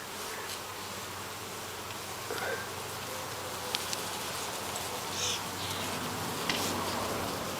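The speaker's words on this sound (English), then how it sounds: "Let's look in there and see how many bees are left." Bees remaining in a hive box just after the colony swarmed, a steady broad buzzing hum from many insects throughout, close and fairly even with a few louder passes.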